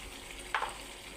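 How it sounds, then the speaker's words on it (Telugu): Tomato upma mixture cooking in a pan, a soft steady sizzle with one brief louder crackle of stirring partway through. "ఇప్పుడు ఇది కొద్దిగా ఉడుకుతుంది"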